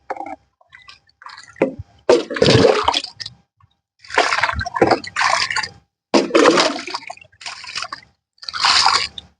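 Water pours onto a potted lemon plant in several separate splashing bursts with short pauses between them, loud and close, with no speech.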